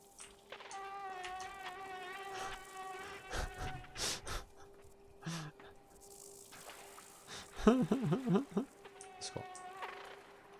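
Mosquito buzzing in sustained whining tones with shifting pitch, fairly close and moderately loud, while voices talk briefly in the middle.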